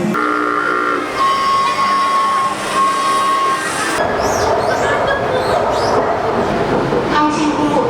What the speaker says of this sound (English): it's time to jump on the metro and get moving again